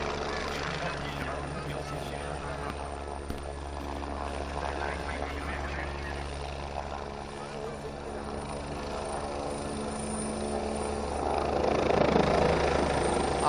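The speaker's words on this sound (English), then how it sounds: "we're having more civilian helicopters today" Civilian helicopters fly at an aerobatic show during a helicopter expo in Tianjin, giving a continuous rotor and engine drone with low harmonic hum that swells louder toward the end, while people talk underneath.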